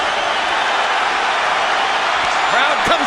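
Boxing arena crowd roaring steadily during the Miguel Cotto vs. Joshua Clottey fight, a loud, continuous, dense wash of cheering that swells slightly near the end.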